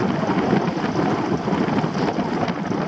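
Strong wind of 8 to 10 m/s roars steadily around a sailboat motoring on Lake Keitele, Finland, with mainsail down; a close, continuous broadband rush with gusty swells, no voices.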